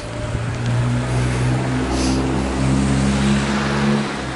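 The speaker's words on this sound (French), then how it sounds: "Il y a beaucoup de circulation" Street traffic on a fair day, with the main street blocked, passes as a steady low rumble of car engines, moderately loud and continuous, one vehicle swelling briefly as it goes by.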